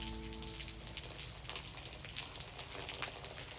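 Steady rain falls during gutter installation at a house front, a dense even patter of drops with a faint low hum beneath, continuous and without talk.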